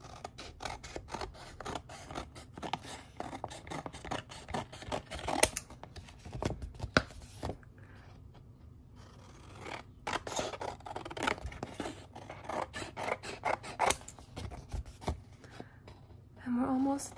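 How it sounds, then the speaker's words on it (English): Scissors snip repeatedly through paper, trimming the white border from a collage piece in rapid bursts of close, crisp cuts with a brief pause midway. "I'm gonna trim off the white border because then it'll look a lot nicer."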